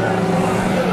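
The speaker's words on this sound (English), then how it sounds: "Let's take a listen to Kyle Holder when she drives by" A race car at Bakersfield Speedway passes with a loud, close engine roar, a brief steady drone during a heat race.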